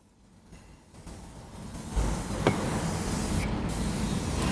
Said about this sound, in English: Then we'll spray the seat bottom.